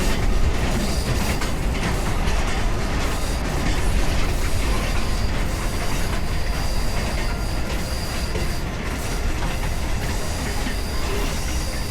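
A Mombasa commuter train rumbles along the rails in a continuous loud roar, with wheels squealing faintly and a steady clatter throughout; no voices.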